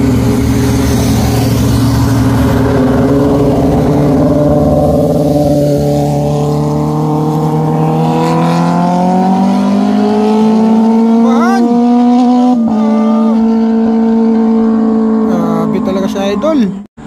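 A big motorcycle on the Marilaque highway gives a loud, close engine drone whose pitch climbs steadily as it revs past, then wavers and cuts off abruptly at the end. A voice is faintly present.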